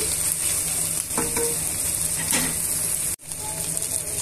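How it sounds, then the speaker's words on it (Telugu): Masala for bhindi curry fries in a pan with a constant close sizzle and occasional stirring scrapes, then cuts off sharply for a moment before the frying resumes. "ఇలా పచ్చివాసన పోయేంత వరకు వేయించుకోవాలండి"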